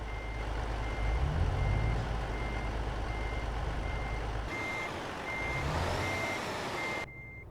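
A truck reversing in Euro Truck Simulator 2, with steady, evenly spaced reversing beeps over a loud diesel engine rumble, the engine tone shifting midway while the beeping continues until it cuts off near the end.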